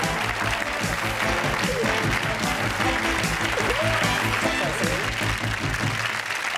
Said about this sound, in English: let's really give them a big cheer